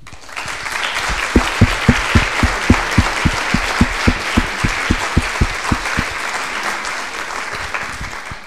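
An audience at a conference event applauds, a dense wash of clapping that settles into loud rhythmic unison claps in a steady beat midway, then fades back into scattered applause.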